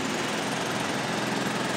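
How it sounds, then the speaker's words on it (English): A boat's engine runs with a steady, loud, rough drone, close by and unbroken, with no talk over it. "There's our boat."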